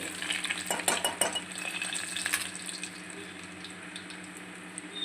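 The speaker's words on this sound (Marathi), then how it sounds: "लसूण घेतलेला आहे इकडे कढीसाठी. मी थोडी परतवून घेते तेलामध्ये. चांगलं असं फ्राय करून घ्यायचं आपल्याला." Garlic and cumin fry in oil for kadhi, a quiet close sizzle with a burst of stirring clicks and scrapes early on, then settling into a low steady crackle.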